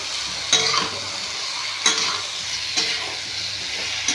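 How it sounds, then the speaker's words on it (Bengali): A spoon stirs a thin vegetable and river-fish curry with eggplant, kohlrabi and taro in a sizzling pan after salt goes in, with three distinct scraping strokes over a continuous loud fry. "লবণ দিয়ে একটু ভালো করে মিশিয়ে নেব।"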